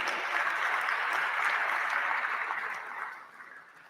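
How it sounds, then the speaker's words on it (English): Applause from guests at a presidential benefit gala in New York: sustained clapping from a sizeable room that holds steady, then thins and fades away toward the end. "let's give her a round of applause"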